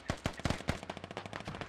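Mortar and gun fire from a beachfront battle in the Scarlet Storm campaign of a war video game: a rapid string of sharp, close blasts in an irregular rhythm, with no voices.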